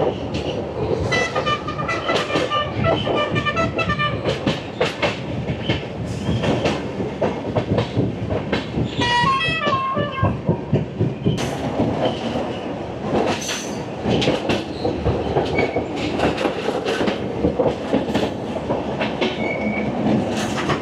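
Agartala to Kolkata Garib Rath Express running along the Jatinga river route in Assam, a steady loud rumble of wheels with rhythmic clickety-clack and squealing, continuous close onboard train noise without talk.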